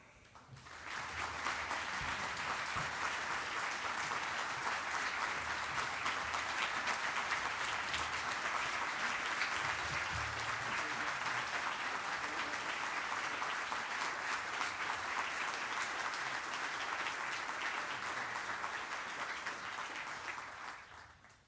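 Sustained audience applause greets Vice President Mike Pence at a ministerial gathering on religious freedom, a dense, steady roar of clapping that holds for about twenty seconds before fading.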